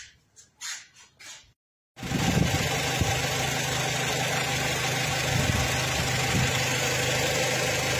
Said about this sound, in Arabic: كما راكم تشوفوا المحرك تاعنا راه نايض